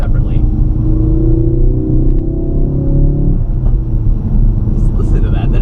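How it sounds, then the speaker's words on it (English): A deep, rumbling exhaust drone from a 2017 Ford Focus RS holding steady, loud and close, with a shifting pitch that drops partway through. "they got the exhaust sound just spot on this car"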